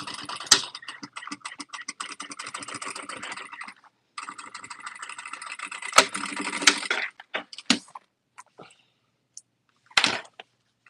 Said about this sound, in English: what am I clicking here? That's the back stitch button.